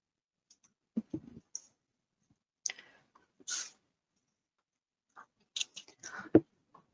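Scattered soft clicks of a computer mouse, some single and some in quick pairs, are heard up close and faint against near silence, with no talking.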